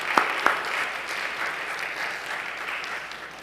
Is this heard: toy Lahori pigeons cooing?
no